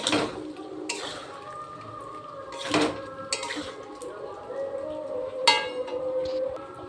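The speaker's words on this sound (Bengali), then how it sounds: "এবার আমি এর মধ্যে দিয়ে দেবো এই যে সেদ্ধ করে রাখা আলু। আলুটাকে এবার ভালো করে কষিয়ে নেব।" Boiled potatoes tossed into hot oil in a pan for a potato and pointed gourd fish curry, with repeated metallic clinks and scrapes of a spatula against the pan over a low kitchen background.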